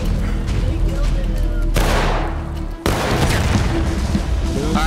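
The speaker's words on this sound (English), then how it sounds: "A bullet seemed to come out of nowhere and struck me." Gunfire in a capture-the-flag video game: steady dense crackling shots throughout, with a sharp loud burst near the middle, then the shooting carries on.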